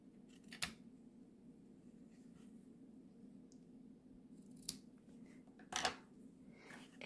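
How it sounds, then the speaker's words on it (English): Paper snips trim ribbon tails on a paper craft project, giving three sharp, close snips spaced over several seconds against a quiet room hum. "And then we'll bring in our paper snips and we'll trim this up."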